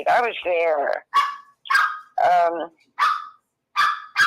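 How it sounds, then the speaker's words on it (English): Two Maltese dogs barking in short sharp bursts, several quick barks spaced across the moment, close by, alternating with a person talking indoors. "That's my dog barking."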